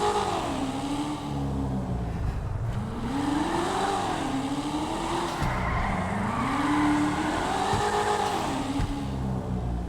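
A car engine revs up and down in repeated rising and falling sweeps while driving, loud and close, with a rough, wavering tone and no talking.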